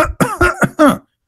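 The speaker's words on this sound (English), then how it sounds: "Do you want me to cough more to explain it more?" A person coughs in a quick run of about five harsh, voiced bursts over roughly one second, close and loud, then stops into silence.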